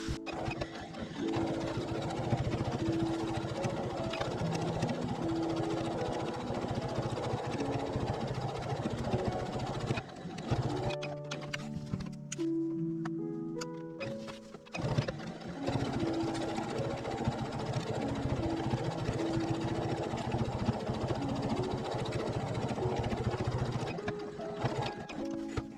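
A sewing machine stitches the seam of a lining for a four-pocket fabric bag, running in a steady close whirr for most of the stretch with a brief slowdown partway through.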